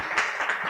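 Brief audience applause at a youth communication forum in Seoul: a steady, dense patter of many hands clapping at once, moderately loud, with no voices over it.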